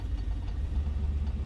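A de Havilland DHC-2 Beaver radial engine in Flight Simulator 2020 idling steadily during its warm-up, a low even rumble with no other sounds.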